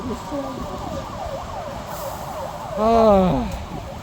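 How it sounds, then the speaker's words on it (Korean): An ambulance siren sweeps past on a street outside a national assembly gate, its wailing rising from a steady wail into a louder, closer swell near the end over constant traffic rumble. "지금 또 이제 앰뷸런스가 가네요"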